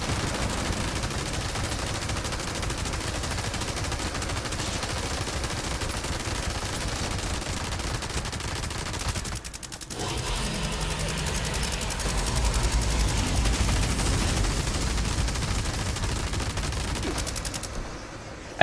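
Dense, continuous automatic gunfire in the video game Fallout 76, fired at a snake, a loud sustained rattle with a brief break midway, then resuming over game noise.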